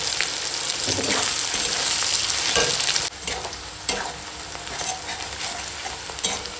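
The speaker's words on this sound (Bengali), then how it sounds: "পেঁয়াজ কাঁচা লঙ্কা একসঙ্গে ভেজে দেব" Onion and green chillies fry together in very hot oil in a kadai, giving a loud, steady sizzle with stirring scrapes throughout and no talking.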